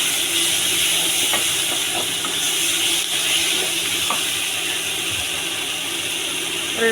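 Tamarind and other chutney ingredients for a green moong dal dosa roast in a hot pan, giving a steady, loud hiss of sizzling that runs unbroken throughout with faint crackles.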